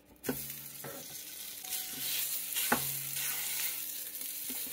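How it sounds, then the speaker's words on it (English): Chorizo fries in a little oil, giving a steady hiss and sizzle with a few sharp scraping or stirring knocks scattered throughout, close and alone without any talking. "A little bit of oil. And we're making some chorizo."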